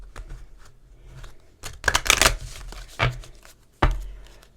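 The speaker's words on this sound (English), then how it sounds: "let's give it a nice little shuffle" Tarot cards being shuffled by hand, a soft papery riffling broken by a few louder bursts of cards snapping together, close and alone with no talking.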